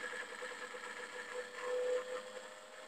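Electric motor running throttled by a cheap dimmer, a steady faint hum with a high whine and buzzing tones, swelling slightly midway and holding even throughout.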